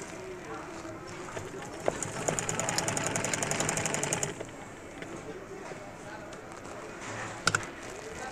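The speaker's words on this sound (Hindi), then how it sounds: "कॉलर के साथ साथ सिलाई लगानी है आपने।" A sewing machine runs in a short rapid stitching burst along a shirt collar, steady mechanical chatter for about two seconds amid quiet room noise.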